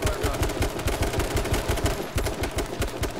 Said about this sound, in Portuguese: Nossa, muito tiro, é muita gente.